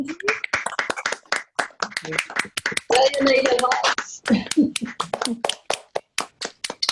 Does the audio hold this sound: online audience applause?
yes